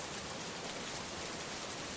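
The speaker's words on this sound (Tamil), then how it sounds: "மழை ரொம்ப அதிகமாக பெய்யுது இல்லை?" Heavy summer rain, a dense, steady broadband hiss that fills the whole clip with no pauses, fairly faint overall and without voices.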